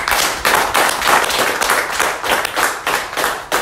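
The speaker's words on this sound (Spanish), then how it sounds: "este aplauso es para ustedes" A congregation at a Santa Muerte novena prayer gathering claps together in a steady, close round of applause, with separate hand claps pulsing clearly and no talking.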